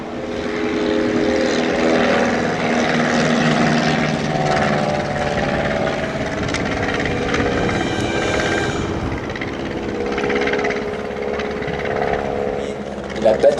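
A WWI Red Baron propeller aircraft flies at the Roissy Meaux airshow, its engine a loud continuous droning roar that swells and fades slightly as it passes, with faint crowd and announcer sounds underneath.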